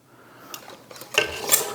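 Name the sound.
putting canning lids on apricot jelly jars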